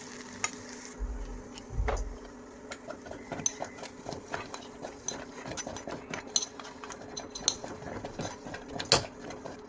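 A spoon stirs and scrapes through thick mustard greens saag in a cooking pot after the tempering is added, making soft irregular clinks and scrapes, quiet and close, with no talking.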